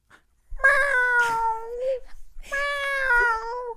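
A person imitates a cat in distress, giving two long, loud, wavering meows one after the other, close up and alone with no other talk.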